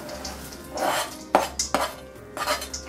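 Peanuts go into hot caramel in a pan while making chikki, Indian peanut brittle, with a few sharp clattering knocks and scraping clinks of the nuts and utensil against the pan, close and fairly quiet.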